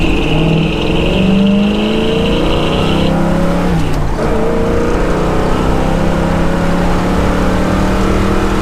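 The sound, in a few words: 1965 Pontiac GTO engine running and revving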